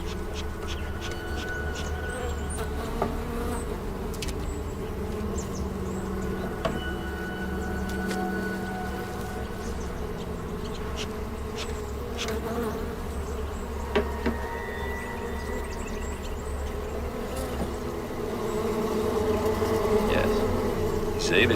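Bees buzzing inside a dilapidated, crowded beehive, a dense steady drone held close and continuous, with a few faint clicks and no talk.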